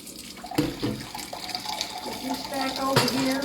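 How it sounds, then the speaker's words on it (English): Tap water runs steadily into a cooking pan in a home kitchen while candy is being made, a continuous splashing wash with a voice speaking over it. "let me put some more water in here."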